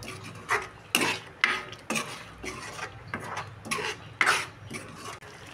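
Spoon stirring kasuri methi into a pan of simmering paneer butter masala, producing a series of distinct scraping and clinking strokes about every half second, close and clear with no voices.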